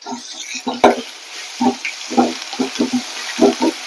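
Banana flower frying in a pan with a steady sizzle, overlaid by repeated scraping stirs and clinks at an irregular rhythm, close and fairly loud.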